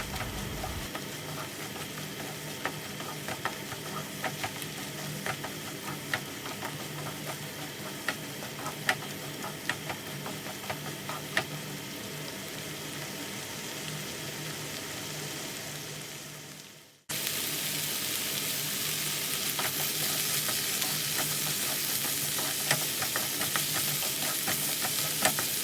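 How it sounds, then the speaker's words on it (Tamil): Coconut and chana dal mixture stirred in a pan as it thickens, a low steady sizzle with a run of small ticking scrapes from the spoon, then a sudden jump to a louder, brighter hiss. "தேங்காய், கடலைப்பருப்பு எல்லாம் சேர்ந்து நல்லா திக்காகி வர்ற வரைக்கும் நம்ம கிளறி விட்டுக்கலாம்."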